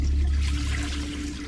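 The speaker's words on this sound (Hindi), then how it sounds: "वो फ्लश कर दिया।" A toilet flushes in a bathroom, a close rushing gush of water with a low churning rumble that eases off slightly toward the end.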